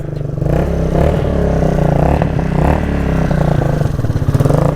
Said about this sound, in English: you'll hear that super trap exhaust coming into play there with a few snapbacks and a crackle and a pop